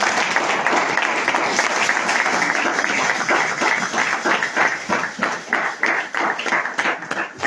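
A church congregation bursts into sustained applause, a dense wash of many hands clapping that settles into a steadier rhythmic beat near the end.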